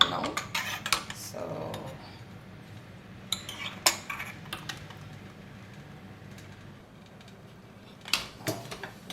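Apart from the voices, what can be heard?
stacking metal idli racks in a cooker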